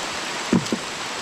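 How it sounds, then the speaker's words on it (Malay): A steady hiss of heavy rain fills the scene, with a couple of brief thumps partway through. "Hujan lebat ha."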